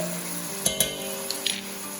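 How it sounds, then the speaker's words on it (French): Sausages and onions sizzle in a cocotte over high heat, a steady frying hiss with a few sharp clinks and scrapes of a utensil stirring against the pot, close and alone with no talk. "je vais remuer un petit peu ma cocotte pour que mes saucisses et mes oignons n'attachent pas trop dans le fond"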